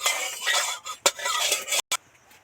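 Turmeric powder is stirred into food in a kadai, with close, loud scraping strokes of a spoon against the metal pan and a couple of sharp clinks before a sudden stop.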